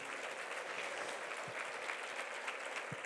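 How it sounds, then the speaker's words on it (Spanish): An audience at a Catholic university general assembly applauds its panelists with dense, even clapping that is sustained and fairly distant, with a couple of low thumps and no voices. "one applause for our panelists once again"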